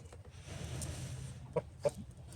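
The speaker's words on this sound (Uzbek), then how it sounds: "Xo'roz rosa topida hozir." A rooster gives two short, faint clucks close together against a quiet, low background hum.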